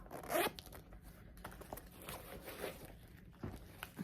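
Zipper on a mixed media reptile animal print zip top travel purse by Chico's, a quick loud rasping pull followed by softer handling and another short zip, close up with no speech.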